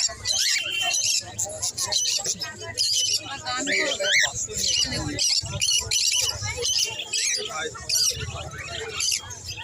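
Many exotic caged birds at a rural market chirp and call in a busy, overlapping chorus, with voices talking over the top throughout.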